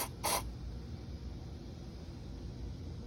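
One short, sharp hiss of an aerosol cleaner burst sprayed on a MAF sensor from a 2013 Ford F-150 3.5L at the start, followed by quiet room noise.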